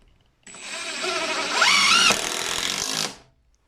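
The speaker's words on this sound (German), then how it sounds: "Ohne Vorbohren kann man die also reinknattern." An impact driver sinking a screw straight into a wooden floor beam without a pilot hole, one continuous close, loud buzzing rattle of about two and a half seconds that rises in pitch midway and then cuts off.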